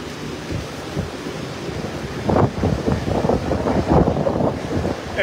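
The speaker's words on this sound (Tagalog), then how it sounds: "Medyo malakas na nga hangin dito." Strong wind buffets the microphone in heavy, rumbling gusts that swell louder toward the end, with no voices.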